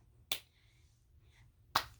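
Two sharp hand claps made with the arms crossing over the body's midline, spaced about a second and a half apart, close and crisp in an otherwise quiet room.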